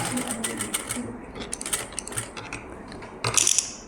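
Sewing machine running long stitches while hemming and finishing the folded-in neck edge of a blouse, a steady close mechanical whirring with rapid needle clatter, a brief louder burst near the end.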